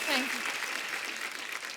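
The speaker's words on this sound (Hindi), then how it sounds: "जोरदार तालियों के बीच बुलाते हैं" A studio audience on a comedy show breaks into steady, bright applause, a brief voice rising over the start before the clapping carries on alone.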